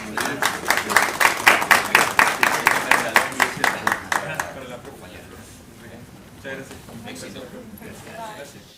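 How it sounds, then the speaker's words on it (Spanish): An audience at a municipal council meeting in Villa Ángela, Chaco, claps in a fast, even burst of applause that fades after about four seconds, leaving murmuring room noise. "Aplausos para los dos."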